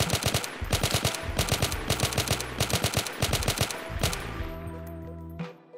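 An ACS gun in the Roblox video game fires in rapid bursts of clipped automatic shots, several volleys in a row, then stops with a short mechanical clack near the end.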